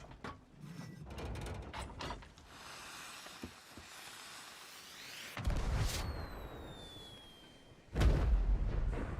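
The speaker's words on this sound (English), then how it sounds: "why don't we fire off a firework?" A firework launches in a video game while decorating a boat: a clattering of small mechanical clicks, then a sharp whooshing burst with a ringing whistle tail, followed by another loud thumping blast near the end.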